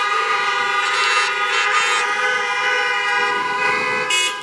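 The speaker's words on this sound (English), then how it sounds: "please honk your horn." A crowd of car horns honks in a long, loud, overlapping chorus at a drive-in college commencement in 2021, with bursts of individual toots rising and falling over the steady blare.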